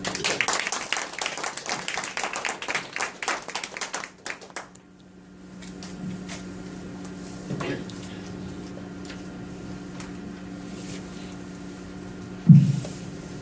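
Audience applause for a professor after a talk on Karen culture, a burst of dense clapping for about four seconds that then stops abruptly, leaving a quiet room with a faint hum and a single thump near the end.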